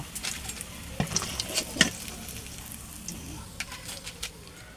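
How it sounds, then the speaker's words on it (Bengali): Cauliflower pakoras fry slowly in oil until reddish-brown, giving a soft, crackling sizzle with occasional sharper pops and utensil clicks. No one talks. "একেবারে আস্তে আস্তে ভাজবো, একটু লাল লাল করে।"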